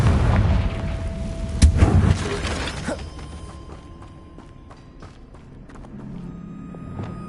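In Hogwarts Legacy, a Confringo fire spell goes off as a loud, booming blast at the start. The rumble fades over a couple of seconds, and softer scattered impacts and clatter follow. No one speaks.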